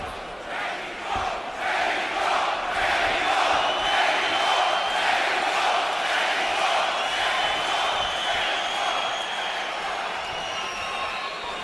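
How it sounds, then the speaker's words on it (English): A large boxing arena crowd roars and cheers for Mexican fighter Miguel Beltran Jr against Rocky Martinez, a loud sustained wall of voices swelling after a good shot and holding steady throughout. "you can hear the Mexican representation, Mexican-American representation in the crowd as they cheer immediately for one good shot"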